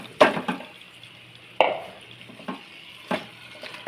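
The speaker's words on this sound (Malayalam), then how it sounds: "ഇനി നമുക്ക് ചിക്കൻ ഇട്ട് കൊടുക്കാം." Chicken pieces stirred into frying coriander masala in a pan, giving a low background sizzle with a few sharp scraping and clanking stirs spaced a second or so apart, close by and without speech.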